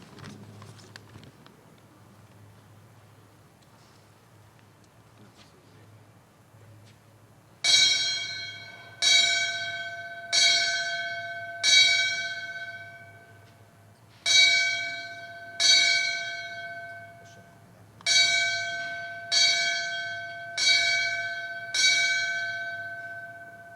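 A ceremonial bell is struck at a Palm Beach County Fire Rescue recruit graduation, ringing out in three groups of clear, resonant strikes, each tone ringing on and fading before the next, with a quiet hall in between.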